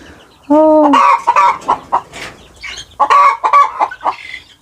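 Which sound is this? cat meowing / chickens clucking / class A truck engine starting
chickens clucking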